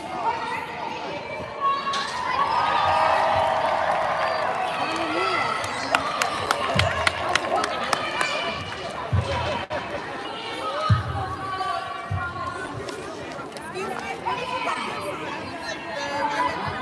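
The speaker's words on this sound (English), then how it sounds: "decent crowd out here today" Outdoor crowd at a state capital rally, a steady wash of many voices chattering at middling distance, with scattered footsteps, bumps and a voices rising through the murmur for the whole stretch.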